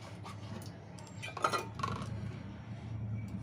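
A spoon clinks and scrapes against a dish as ginger, garlic and other spice pastes are added one by one, giving a few light metallic taps and a short scraping stretch over a low background hum, with no voices.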